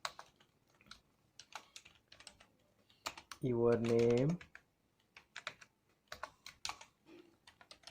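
Soft, sparse keystrokes on a computer keyboard while a letter is typed in MS Word, scattered clicks under a quiet narrating voice.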